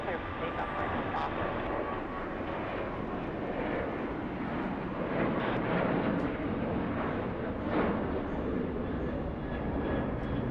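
An American Airlines jet on its takeoff roll from runway 25 Right at LAX, a broad steady engine roar that swells slightly midway, with faint radio voice traffic over it.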